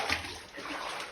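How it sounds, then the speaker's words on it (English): Someone walks barefoot through water in a flooded opal mine, producing a continuous close sloshing and splashing of feet moving through the water. "you walk through the flooded mine"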